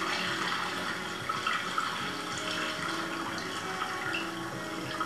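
Starchy rinse water pours off washed sushi rice in a steady, continuous splashing stream that runs for the whole stretch with no talking.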